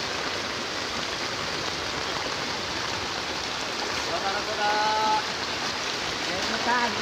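Floodwater in eastern Cirebon rushes steadily with a dense, continuous watery roar like a stream or heavy rain, and faint voices break through near the end.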